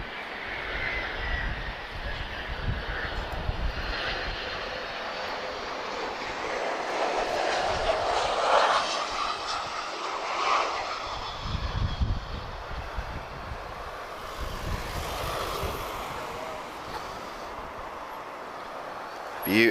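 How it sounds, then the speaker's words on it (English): An ASL Airlines Boeing 737-400 arriving from Casablanca and touching down at Lisbon, a sustained jet roar with whining engine tones that rises and shifts as it passes, moderately distant, with voices faintly underneath. "ASL Airlines, she's arriving from Casablanca. She's just about to touch down now."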